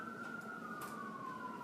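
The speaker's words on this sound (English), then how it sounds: "The trains aren't enough, now we have sirens." A steady, high wailing siren drones on, slowly sliding in pitch, sounding fairly distant over a low background rumble.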